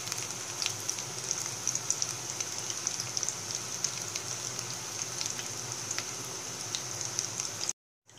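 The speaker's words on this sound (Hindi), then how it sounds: "गैस की फ्लेम मीडियम हाई रखेंगे पकोड़े को फ्राई करने के लिए और हमें इन्हें गोल्डन ब्राउन होने तक फ्राई करना है" Maggi pakoda frying in hot oil over a medium-high gas flame gives a steady, dense sizzle full of fine crackles and pops, close and continuous until it cuts off abruptly at the end, with no talk.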